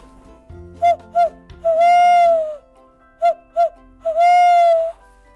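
A human voice imitates an owl hooting in two matching phrases, each with two short hoots and then one long drawn-out hoot, loud and close, read aloud from a children's picture book.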